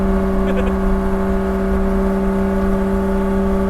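A 2000HP Toyota Supra with a 3.2-liter engine and Pro Mod 94 turbo held at about 6,500 RPM on rolling anti-lag, a loud, close, steady engine drone with a constant whirring tone throughout.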